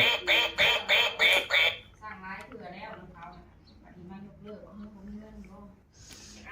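A duck quacks loudly several times in quick succession, then softer quacks and snorting noises follow nearby.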